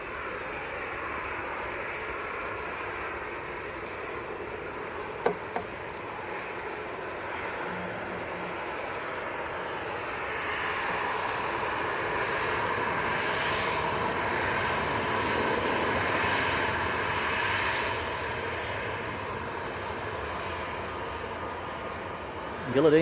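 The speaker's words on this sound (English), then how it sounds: "the Maltese registered Global Express is taxiing out" Maltese-registered Global Express business jet taxiing at Manchester Airport: a steady, broad jet engine roar at middle distance that swells slightly in the middle of the stretch, heard throughout with a few faint clicks.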